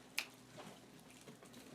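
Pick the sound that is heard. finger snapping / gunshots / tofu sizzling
finger snapping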